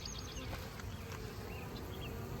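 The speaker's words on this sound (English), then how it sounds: "these bees are using these upper entrances to go in and out of the supers" A soft, steady buzz of many honeybees at a hive's upper entrances late in the day, with individual bees zipping past close by, no voices.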